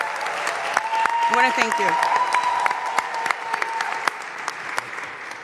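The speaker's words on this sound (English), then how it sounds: "Let's give them a round of applause." Audience applause at the opening of a New York City recreation center fades under someone speaking into a microphone, with scattered claps trailing off near the end.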